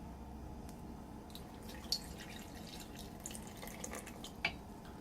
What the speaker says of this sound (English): now we want to add most of our ice cold water